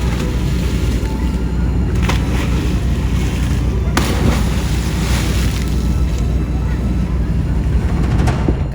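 Steady wash of sea water and the low rumble of a ship idling at a pier just before departure, with wind buffeting the microphone and faint voices in the background.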